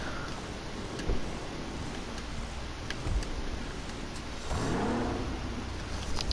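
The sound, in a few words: Dewbauchee Specter car engine starting in GTA Online video game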